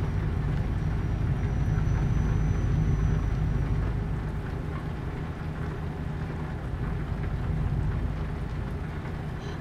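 Steady rain in Euro Truck Simulator, a dense, even wash of drops drumming over a low rumbling engine drone, continuous and fairly loud with no talking.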